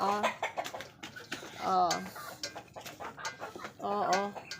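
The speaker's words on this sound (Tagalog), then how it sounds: "Buktot ni siya ka manok." A hunchbacked chicken with an uneven back clucks repeatedly in short, irregular bursts close by, while someone talks and exclaims over it.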